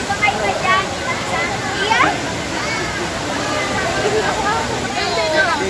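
Taytay Falls waterfall in Laguna, a steady broad rush of falling water at an outdoor family outing, with people's voices chattering over it.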